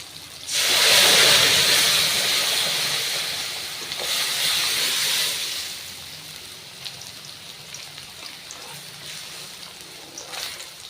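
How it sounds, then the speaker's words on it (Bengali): Lentils hit a hot pan with a loud burst of sizzling that swells, eases, flares once more, then fades to a quieter crackle. "এবার ডালটা আমি ছেড়ে দিই"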